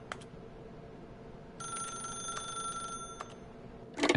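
In The Stanley Parable Ultra Deluxe, a telephone bell rings in one continuous burst of about a second and a half, moderately loud over a quiet, hissy room tone.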